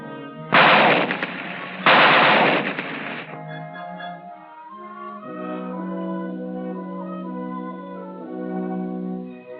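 Two loud bursts of rapid machine gun and rifle fire ring out during infantry weapons training, each lasting over a second, followed by a sustained band of tonal music in an old 1953 military film.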